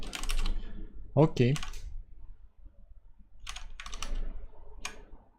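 Bursts of rapid clicking on a computer keyboard come in two clusters separated by a pause, close and crisp, with a brief spoken word between them.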